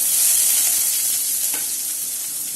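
Chopped onions sizzling in hot oil for a Tamil vendakkai poriyal, a steady, close, bright hiss of frying that fades slightly, with a faint stir or scrape midway.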